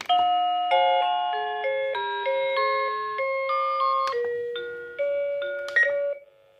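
A camera doorbell plays a long, clear multi-note chime melody, each tone ringing and overlapping, loud and close with no talking.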